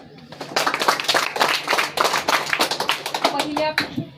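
Audience at a school quiz competition clapping in a quick burst of many hands, close and fairly loud, with a voice briefly heard near the end.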